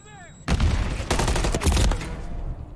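Rapid gunfire in Call of Duty: Modern Warfare 3, loud close bursts of automatic shots after a brief electronic tone, continuing in clustered volleys to the end.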